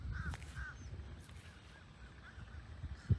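Waterfowl call out near a lakeside residential village in Florida, a few short honking and cawing notes in the first second, then scattered fainter calls over a steady low outdoor rumble.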